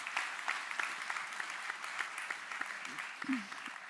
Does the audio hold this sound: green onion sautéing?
no